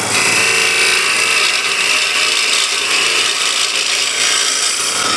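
Spindle gouge cutting wood on a lathe, a steady close hiss and rasp of the tool over the spinning stock with the motor's even hum beneath, loud and continuous with no voice.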